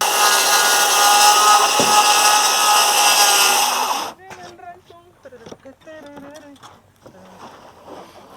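A power saw cuts a window opening in wood framing, a loud, steady whine for about four seconds that then stops abruptly and gives way to a voice talking.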